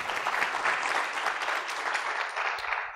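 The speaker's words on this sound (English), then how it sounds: "Can we have a big round of applause?" Audience applause at the close of a tech conference Q&A panel, a steady dense wash of clapping that holds for the full stretch without letting up.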